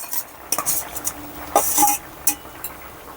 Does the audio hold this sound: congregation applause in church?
no